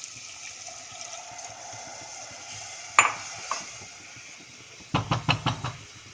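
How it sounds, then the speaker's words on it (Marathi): Milk is poured into potato curry in a pressure cooker, followed by a clear metal spoon clink and a quick run of stirring knocks against the pot over a faint background hiss. "यामध्ये आता दूध घालूया."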